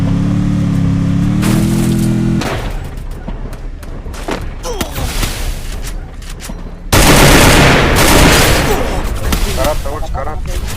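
Video game gunfire in a tournament match, dense loud bursts of rapid shots and a heavy fusillade near the end, with players talking intermittently.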